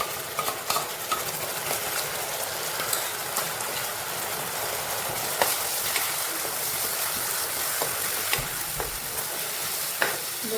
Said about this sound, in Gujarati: હવે આપણે 2-3 ટમેટાની ગ્રેવી કરી લીધી હતી એ પણ અંદર એડ કરી દઈશું